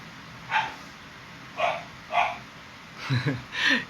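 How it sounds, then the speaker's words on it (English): Dogs bark in the distance, a few single barks spaced apart, then a quicker cluster of barks, over a quiet background. "Can you hear the dogs in the background?"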